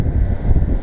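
Wind buffeting an outdoor microphone during auto glass work on a 2016 Porsche Cayenne, a low rumbling roar that swells and dips for under a second, loud and close.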